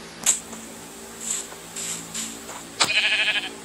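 Minecraft goat bleating in a survival game, several short nasal bleats spread over a few seconds with a longer wavering bleat at the end, heard alone over a faint steady background hum.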